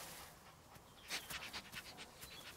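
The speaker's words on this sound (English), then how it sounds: "It's Ivy, the family Bernese mountain dog." A Bernese mountain dog pants softly in a quiet farm setting near piglets, with a few brief, breathy bursts of moderate loudness and no voices.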